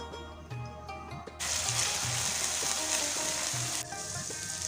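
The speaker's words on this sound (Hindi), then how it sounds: "लहसुन को हल्का सा फ्राई होने देंगे।" Garlic paste frying in oil in a pan gives a steady sizzle that swells suddenly louder partway through, with faint clinks and stirring sounds underneath and no talking.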